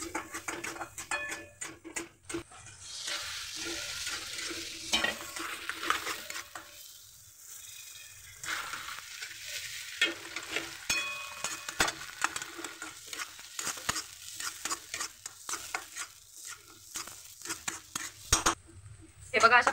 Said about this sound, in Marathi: दूध टाकताना असं हलवायचं आहे, कारण की ते पूर्ण घेऊन जातं मग गाठी होता.